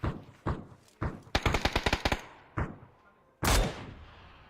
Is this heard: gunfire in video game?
yes